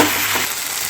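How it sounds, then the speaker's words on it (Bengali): Taro leaf curry with turmeric and salt being stirred in a frying pan, a close, steady sizzle with scraping stir strokes throughout, no voices. "ভালো করে নাড়িয়ে নেব।"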